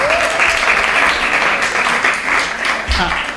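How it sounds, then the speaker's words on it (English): Audience applause rings out at a poetry competition final, a sustained clapping crowd heard near and loud, with a voice speaking over part of it. "Please give him a bigger round of applause than that."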